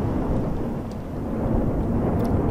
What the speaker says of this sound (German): noch ist das Gewitter hier nicht so mies